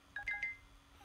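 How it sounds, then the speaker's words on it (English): A short electronic text-message alert from a phone: a quick run of three or four bright, clean tonal beeps lasting about half a second, fairly clear above a low steady background hum, with no talking. "That was a text message."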